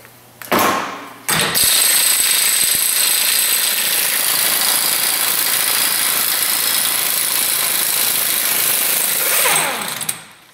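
A half-inch 1822 air impact wrench hammers on the ball joints of a Ford Explorer Sport Trac, a short burst and then one long, loud, steady rattling run that winds down at the end.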